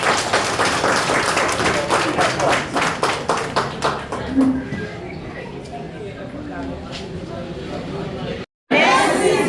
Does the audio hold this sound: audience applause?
yes